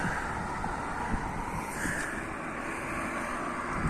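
Steady wind blowing across the microphone, a continuous broadband rush with low rumbling buffeting throughout and no voices.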